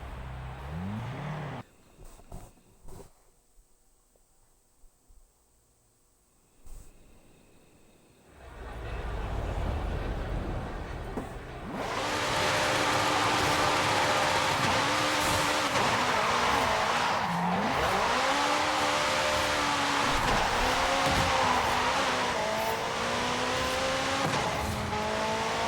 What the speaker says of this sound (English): So now let's take it out for a spin.